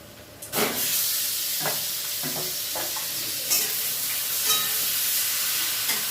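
Chicken pieces drop onto onions frying in a pan, setting off a sudden loud sizzle that keeps hissing steadily, with a few soft knocks and stirring sounds close by.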